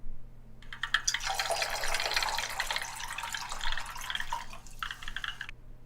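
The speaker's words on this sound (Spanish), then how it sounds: "agregué 200 mililitros de agua junto con unos 100 mililitros de ácido" Water and concentrated nitric acid poured into a vessel in a home chemistry setup for making yttrium nitrate: a steady close splashing, trickling stream lasting several seconds, fading briefly near the end before a last short pour, no voices.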